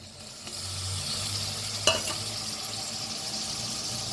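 Steady close sizzle of a pan with a low stirring scrape and one brief clack, as tomatoes are added to an onion-garlic tempering and moved in hot oil.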